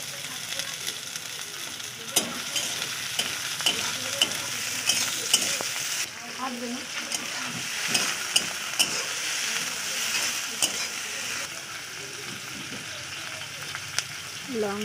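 Chopped onion frying in oil in a wok, a continuous crackling sizzle with repeated scraping stirs and light clinks of the utensil against the pan, close and fairly loud, with no voices.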